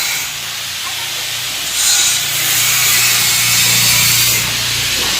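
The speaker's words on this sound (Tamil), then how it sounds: "தாளிக்க வெங்காயம் போடப்படுது" Hot oil hisses and sizzles steadily as onions fry, a bright crackling wash that swells midway, with no talking.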